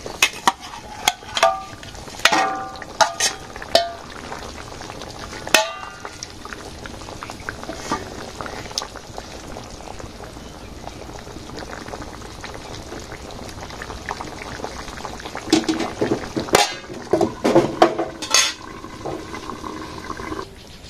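Fish curry with cumin and garam masala paste bubbles vigorously in a village kitchen pot, a long churning boil with liquid gurgles, pours and several louder splashy stirring bursts near the start and end.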